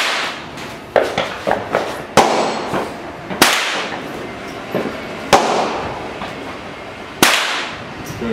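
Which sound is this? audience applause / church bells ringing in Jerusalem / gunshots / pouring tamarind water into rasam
gunshots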